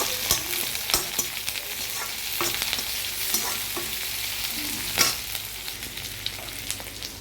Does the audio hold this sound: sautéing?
yes